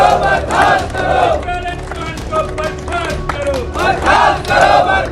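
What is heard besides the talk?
Gurjar community crowd chanting slogans in protest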